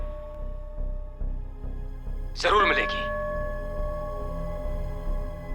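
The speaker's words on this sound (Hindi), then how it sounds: "पीछे घंटे की आवाज आ रही है।" A bell rings faintly in the background, a struck tone lingering and fading, while someone speaks in the foreground.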